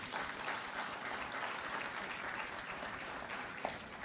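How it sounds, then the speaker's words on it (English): Audience applause follows a thank-you at the close of a day-long event, a steady wash of clapping from a crowd that holds evenly for about four seconds at moderate volume. "Give them a round of applause, please."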